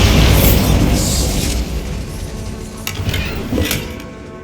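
Bombarda blasting spell in Hogwarts Legacy on Xbox Series S: a loud, booming explosion with crackling debris that decays over several seconds, followed by a couple of sharper impacts.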